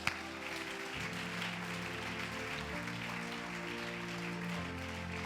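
Church congregation applauding and cheering during a sermon, a continuous broad wash of clapping and crowd noise beneath sustained organ or keyboard chords.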